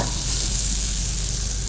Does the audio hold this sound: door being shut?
no